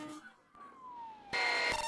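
An ambulance siren wails during a police chase in Georgia, a falling tone sliding down before a louder, harsher burst cuts in near the end.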